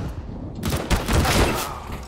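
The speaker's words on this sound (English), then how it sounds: "Chucking a nade." Grenade thrown in a CS:GO competitive match, a sudden loud blast of broadband noise with rumbling gunfire-like crackle following over a couple of seconds.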